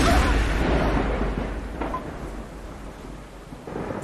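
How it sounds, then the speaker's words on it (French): Heavy rain pours steadily while a deep roll of thunder rumbles and fades, a loud storm close around. "C'est une grosse tempête."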